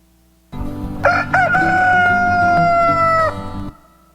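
A rooster crows once, loud and close, a long ringing cock-a-doodle-doo that rises then holds before cutting off.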